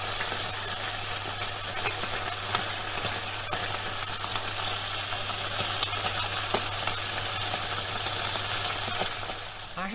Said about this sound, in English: what about KFC chicken frying?